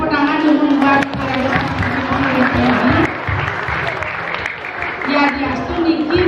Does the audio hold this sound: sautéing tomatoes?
no